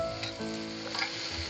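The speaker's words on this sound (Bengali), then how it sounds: "দু থেকে 3 মিনিট ধরে এগুলো একটু হালকা ভেজে নেব।" Vegetables with green chilli fry lightly in a pan, giving a soft, even sizzle with faint stirring movement, close and quiet.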